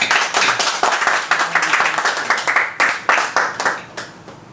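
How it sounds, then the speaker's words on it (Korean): Clapping from a small group at an alumni association committee meeting, a handful of close, distinct claps in a loose rhythm that thins out and trails off near the end. "박수!"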